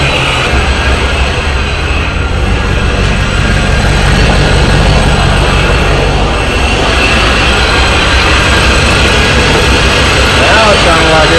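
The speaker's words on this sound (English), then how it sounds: "She's idling, man." A loud, steady supercharged V8 Corvette engine idles close by, a constant rumble with a low throbbing pulse and no speech.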